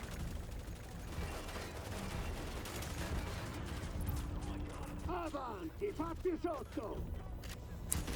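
Gunfire and grenade blasts from The Division, a dense continuous barrage of shots and explosions with a voice talking over it in the second half.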